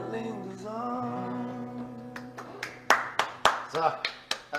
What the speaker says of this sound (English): extra applause.